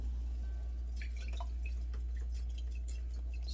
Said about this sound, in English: I'm going to give this a double rinse.